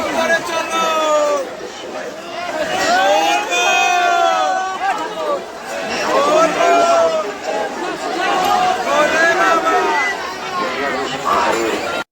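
A dense crowd of pilgrims streams off trains at Sheoraphuli station, a continuous loud babble of many overlapping voices with shouts rising and falling close around the listener.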